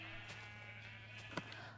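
A sheep bleats in a blocky survival video game, a faint, steady tone heard at low volume alongside light game ambience, with a couple of small clicks near the end.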